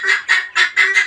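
Charcoal Brahma chicken, a large heavy breed, calling in a run of four or five loud, close, honking clucks in quick rhythmic succession.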